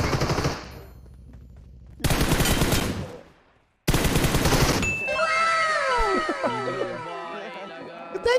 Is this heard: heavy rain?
no